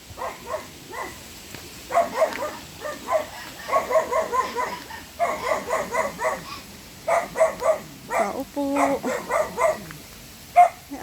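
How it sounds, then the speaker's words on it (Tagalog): A dog at a rural hut along a trek barks in rapid, repeated bursts at moderate distance, loud and insistent, while a person briefly calls out. "Uy, may aso sila."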